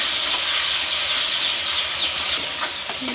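Potatoes frying in a pan with ginger, green chili, onion and garlic give off a steady, bright sizzle throughout, with occasional small pops and spatters near the end.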